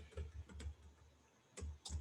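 Typing on a computer keyboard: clusters of close, soft key clicks in short bursts, a brief pause in the middle, then more rapid tapping, with no talk over it.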